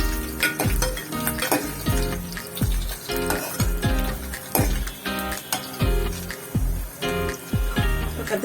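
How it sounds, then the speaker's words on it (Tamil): Garlic and vegetables for kathirikai kulambu, a Tamil eggplant curry, sizzle in a hot pan as a spoon stirs and scrapes in a steady, regular rhythm throughout, close up and with no talking. "போட்டு வதக்கணும்."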